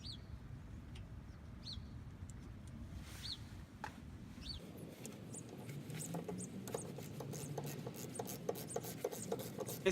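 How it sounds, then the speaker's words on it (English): A ratchet with a 12 socket works loose a brake caliper pin bolt, giving a steady fine rasping and clicking close up, with faint bird chirps in the background. "you take your socket and you attach it to your ratchet and you put it on your pin bolt and you proceed to loosen it."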